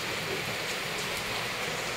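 Steady rain falls in a continuous, even hiss, moderately quiet, with no voices over it.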